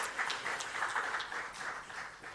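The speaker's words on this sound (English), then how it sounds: "Please give them a round of applause." Quiet, distant-sounding applause from an audience at a ceremony releasing regional examination results, with a soft, even wash of claps lasting a couple of seconds.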